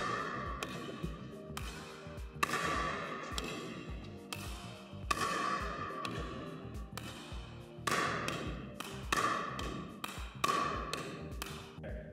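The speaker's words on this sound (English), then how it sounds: "I'm gonna start dinking. And I'm just gonna try to get the paddle hitting the back of the ball flat." Flat pickleball dinks, paddle meeting the back of the ball, make a steady series of crisp, close taps and light thuds at a relaxed rally rhythm, alone without talk.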